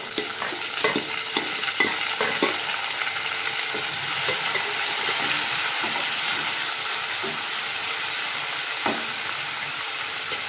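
Finely chopped tomatoes fry in a pan for a spicy thokku, giving a continuous close sizzle with scraping stirring strokes throughout.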